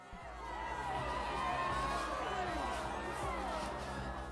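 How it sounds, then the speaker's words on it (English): A large crowd murmurs and stirs in a city square before a prefecture in the game The Life and Suffering of Sir Brante, a steady, dense wash of many voices swelling slightly in the middle. "A large crowd has gathered in the Prefecture Square."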